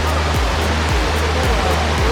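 Tumalog Falls in Cebu roars as a loud, constant rush of falling water close by, with no break over the whole stretch.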